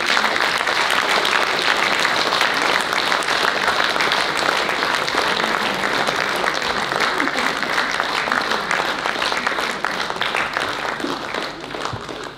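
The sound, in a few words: audience applause welcoming kankles ensemble back to stage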